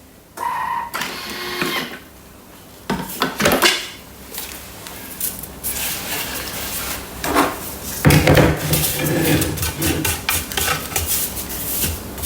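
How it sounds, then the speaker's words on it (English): A spatula scrapes around the inside of a Thermomix TM6 bowl holding oat biscuit dough, with irregular close scraping, knocking and clattering strokes that come in uneven bursts and pauses. "Now we're going to scrape it down."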